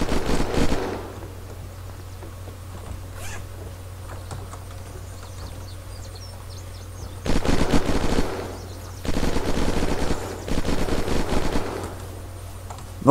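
Automatic gunfire from the video game Unturned, heard as several rapid bursts of shots separated by quiet gaps, loud and close over a low steady hum.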